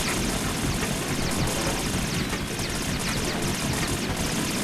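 A Harrier jump jet engine in Metal Gear Solid 2 roars steadily up close, a loud, thick whine and rumble with a choppy, beating texture that continues unbroken.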